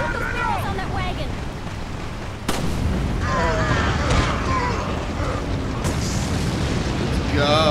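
Barrels on a wagon explode in Resident Evil 4, with heavy booms and sharp blasts over a loud, constant roar of game noise and shouting voices.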